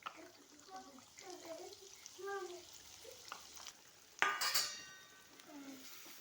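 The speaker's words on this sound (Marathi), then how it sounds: "आता हा मसाला छान तेल सुटेपर्यंत भाजून घ्यायचं आहे आपल्याला सारखं हलवत राहायचं" Ground masala paste for a village-style chicken gravy roasts in oil while being stirred, a quiet sizzle with scraping strokes and a louder burst partway through, with a faint voice murmuring early on.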